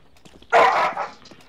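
A single sharp dog bark rings out close and loud in a video game, brief and alone against quiet background.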